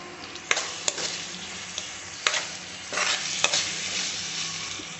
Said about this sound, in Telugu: ఇందులోనే పచ్చికారం వేసి మగ్గనిద్దామండి కొద్దిసేపు